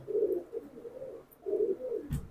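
A military pigeon coos in two low, rounded phrases near the mic, each lasting about a second, with a short pause between them and a brief bump at the end.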